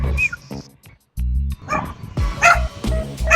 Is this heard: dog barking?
yes